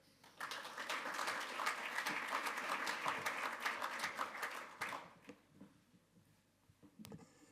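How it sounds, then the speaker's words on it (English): Warm audience applause for a senior expert at a forum, a dense wash of many hands clapping steadily for about five seconds before thinning out, with a few scattered claps trailing at the end. "I would like to have a warm applause for Wolfgang Münch, Senior Expert at DG Regio."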